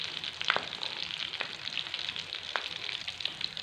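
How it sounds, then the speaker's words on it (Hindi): Potato tikki frying in oil, a soft, steady crackling sizzle with a few brief sharper pops scattered through, fairly quiet and with no voices. "तो इस तरह बाकी भी हम फ्राई कर लेंगे"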